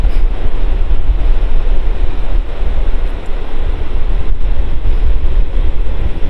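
Sea waves wash continuously onto the shore at St Leonards-on-Sea near Hastings, a loud steady roar of surf with heavy wind buffeting the microphone throughout and no voices.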